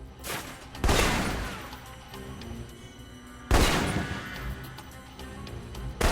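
Assault rifle fire in the video game Alpha Protocol, two loud sharp bursts several seconds apart, each trailing off into a rumbling echo over a steady background din.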